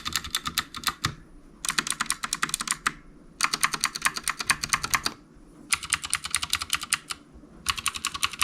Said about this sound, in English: let me just go ahead and start typing to let you guys hear what the clicky sounds actually sound like